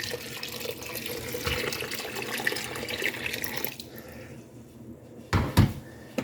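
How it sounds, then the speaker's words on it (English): Water poured into a pot for cheesy potato and corn soup runs as a steady, close splashing rush for a few seconds, then stops, followed by quieter kitchen sounds and a brief clatter. "Then just enough water to cover. This is not boiling, I'm just using it to pour."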